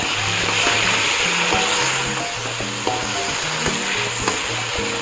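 A splash of water hits chicken frying in a pot for street-style chicken masala biryani, setting off a loud, continuous sizzle with occasional spoon clinks as it is stirred.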